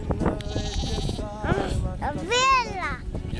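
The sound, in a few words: sheep bleating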